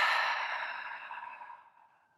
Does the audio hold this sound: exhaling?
yes